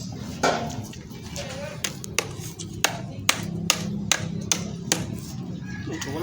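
A hammer strikes a wooden staircase post in a loose series of sharp knocks, about a dozen blows, with voices talking faintly in the background.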